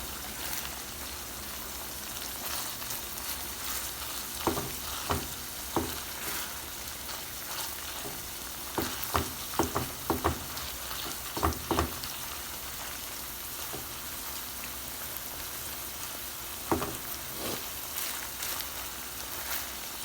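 Ground meat frying in a pan for spaghetti, a soft continuous sizzle broken by scattered stirring clicks and pops, fairly quiet and close, with no talking.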